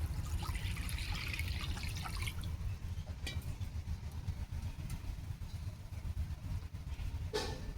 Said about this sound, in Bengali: কড়াতে জল দিয়ে দিচ্ছি ডিম সেদ্ধ করে নেবো